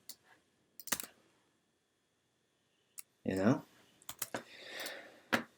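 Computer keyboard keys pressed a few times, sharp isolated clicks scattered with pauses between, close and quiet, with a short burst of speech in the middle.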